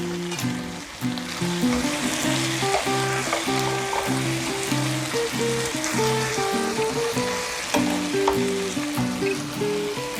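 Soy-braised chicken sizzles steadily in a pan after sesame oil is drizzled in, a loud, continuous crackle with busy popping throughout and no voices.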